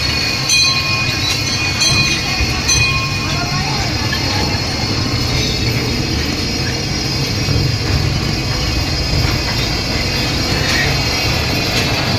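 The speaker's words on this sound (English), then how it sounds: "which is kind of cool, having the train come through" A small amusement park train rumbles by close up, wheels clattering and squealing on the rails, with steady mechanical noise throughout and faint voices in the background.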